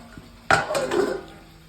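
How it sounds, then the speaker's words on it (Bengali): A metal lid set onto a cooking pot in a home kitchen, one sharp clatter followed by a brief ringing rattle as it settles, close and fairly loud. "আমার ঢাকনা দিয়ে দেবো"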